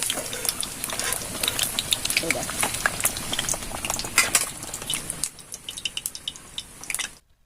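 Potatoes fry lightly in hot oil, sizzling and crackling with dense popping bursts, then the frying quiets to sparse crackles before cutting off.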